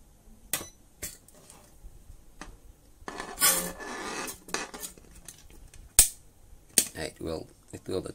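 JQ-DHJ02B mini spot welder firing, heard as sparse sharp clicks and snaps with short crackling bursts, fairly quiet, with brief talk in between.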